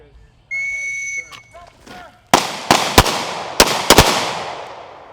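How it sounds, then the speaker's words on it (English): Gunshots crack at a police firing range during officers' annual shooting qualification, several sharp loud reports in quick clusters, preceded by a sustained whistle and brief voices. "We're out here today at our firing range."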